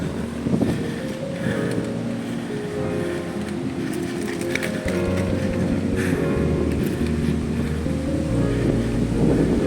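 Strong headwind buffets the microphone of a cyclist in a continuous low roar, gusting and rumbling throughout with no voices.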